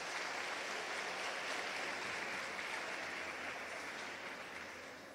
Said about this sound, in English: May we please give our distinguished guests a round of applause.